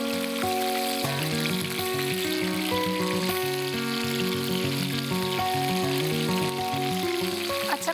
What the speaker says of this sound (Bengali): যেগুলো লাল লাল হয়ে গেছে একটু ভেজে তুলে নিলাম।